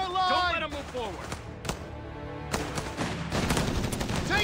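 Bursts of gunfire crackle through a Company of Heroes 3 airborne battle at Caiazzo, sharp shots and rapid volleys mixed with in-game voices and explosions, loud and dense in the latter half.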